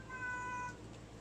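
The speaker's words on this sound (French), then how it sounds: "Comme par hasard quand le chat s'amuse à faire miauler." A house cat gives a single short meow, heard alone and fairly close during a paranormal investigation at a private home.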